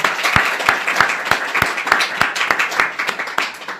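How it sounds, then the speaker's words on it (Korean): Church congregation applauding during a Sunday worship service, a near room of clapping with sharp individual claps standing out in a fairly steady rhythm, moderately loud and without voices. "우리 하나님께 영광의 박수 다시 한번 돌려드리겠습니다"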